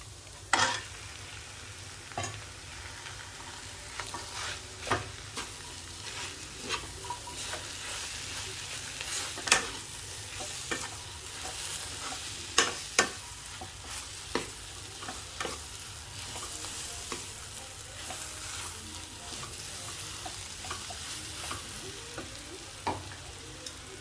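Mashed potato being stirred into masala in a pan for stuffed capsicum, a soft continuous sizzle broken by scattered spoon scrapes and taps, close and with no talking.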